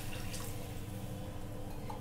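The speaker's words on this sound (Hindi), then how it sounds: "अब इसमें 1 ग्लास पानी डाल देंगे" A glass of water poured into sizzling, fried masala for Rajasthani papad curry, a faint steady splash and bubbling hiss from the pan, continuous for two seconds with no talk.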